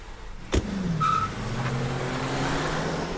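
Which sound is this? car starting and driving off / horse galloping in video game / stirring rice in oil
car starting and driving off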